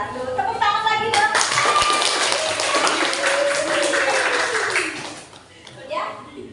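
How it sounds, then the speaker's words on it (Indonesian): Classroom students clap together after a discussion and presentation, a brisk burst of hand claps under a few speaking voices that fades after about five seconds. "Tepuk tangan lagi dong."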